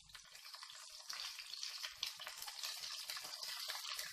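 Curry leaves hit hot oil during Indian tempering, a bright crackling sizzle that swells after a second and keeps popping and spitting steadily, close and fairly quiet with no talk.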